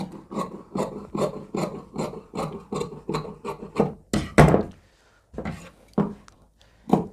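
Scissors cut straight along a marked line through folded shirt fabric, a close series of rhythmic rasping snips that repeat steadily, then pause and resume in a few short bursts, with no talking.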